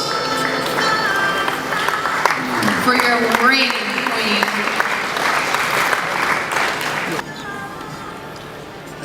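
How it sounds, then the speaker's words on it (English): Audience applause at a formal ceremony in Creek Town, a dense, loud clatter of many hands mixed with cheers and voices, dropping abruptly to quieter clapping near the end while someone speaks. "Ladies and gentlemen, a round of applause."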